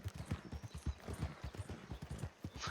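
In Red Dead Redemption 2, a horse's hooves clip-clop quickly and steadily at a brisk gait. The sound is soft and moderately close, with a faint whinny-like sound near the end.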